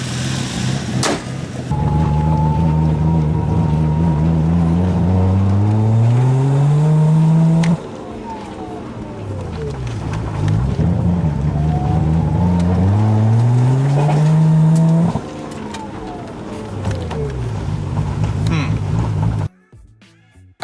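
A car engine starts and runs, then revs up through rising gear changes as the car drives off, loud and close, with the engine note climbing and dropping in repeated sweeps before it abruptly stops.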